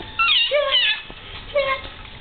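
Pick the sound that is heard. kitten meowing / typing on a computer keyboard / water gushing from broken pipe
kitten meowing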